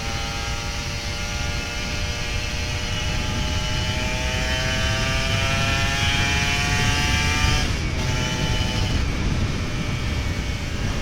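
A Kawasaki Ninja RR 150 two-stroke motorcycle engine held at a steady, loud drone while riding, its pitch rising slowly, with a brief dip near the end.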